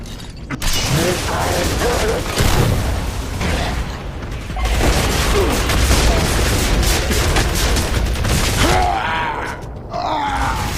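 Boltok Pistol fire and battle noise in a Gears of War 3 multiplayer beta match: dense, loud bursts of shots, booms and mechanical clatter packed together almost without a break, with a short lull near the middle.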